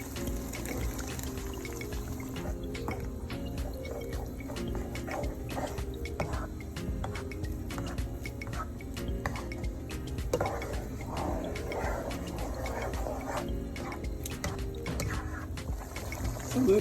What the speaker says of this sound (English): This is your tomato and pepper blend. We're going to go ahead and add that.